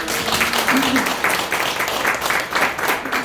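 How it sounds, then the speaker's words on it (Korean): An audience applauds, giving a round of clapping for someone's recovery in a seminar on microbiome diets, steady and fairly close, with faint talk underneath. "우리 이분 빨리 건강해라고 박수 한번 드립니다."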